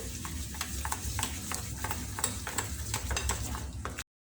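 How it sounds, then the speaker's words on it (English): Sugar being mixed into cookie dough for orange cookies, heard as a steady run of soft, rhythmic scraping stir strokes from close by, with no talking. "After that I will add sugar. Now you need to mix it well."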